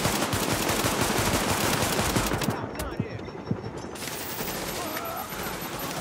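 Rapid pistol gunfire in the video game The Division, a dense burst of overlapping shots that thins into scattered single cracks, loud and close, with a voice talking underneath.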